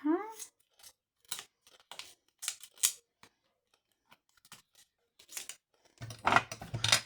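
Quick sharp snips of scissors cutting paper for a folded paper box, a run of separate close cuts followed by a denser burst of rustling paper, no talking.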